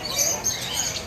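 Small birds perched on people give a quick burst of high, thin chirps and squeaky calls, close and fairly faint, over about a second.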